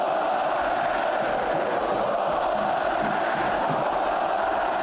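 Palmeiras supporters in the stadium stands roar and chant in a dense, unbroken wall of crowd noise, loud and steady from start to finish.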